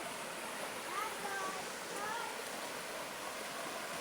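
River water flowing steadily, a broad close wash of rushing noise with no breaks, while faint voices sit beneath it.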